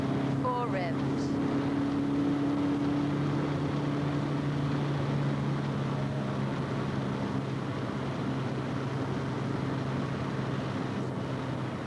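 A racing car engine drives around a motor racing track, giving a steady, droning tone that holds at an even level throughout, with a brief higher rasp near the start.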